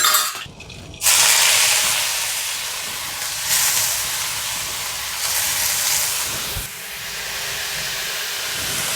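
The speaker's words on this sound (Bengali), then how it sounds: "একটু সর্ষের তেল দিলাম পেঁয়াজ আদা রসুন" Onion, ginger and garlic hitting hot mustard oil for soyabean kofta masala, a sudden loud hiss that then settles into a steady sizzle with a few surges, close and unaccompanied by talk.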